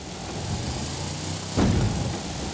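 A Willys Jeep engine in a driving video game hums quietly at a steady low idle, then gives a brief louder rumbling surge partway through before settling back to a soft drone.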